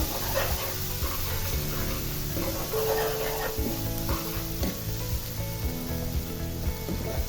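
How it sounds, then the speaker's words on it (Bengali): Spices frying in a pan with cumin powder and salt for Noakhali-style maskalai dal, a steady sizzle under stirring, joined by low music or hum and a few faint dog whimpers. "দিয়ে আমি সবগুলো কিছু খুব ভালোভাবে কষিয়ে দিচ্ছি।"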